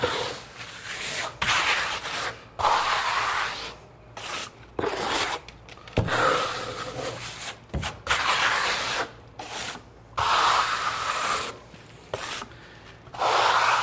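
A trowel rubs and scrapes across Dryvit Lymestone finish on a wall, giving repeated close gritty passes in short strokes with brief pauses between them.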